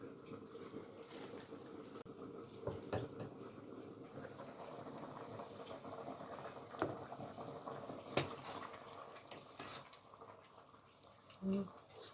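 A pot of beef soup with ginger simmers quietly on the stove, with soft bubbling and faint pops plus scattered clinks and taps throughout.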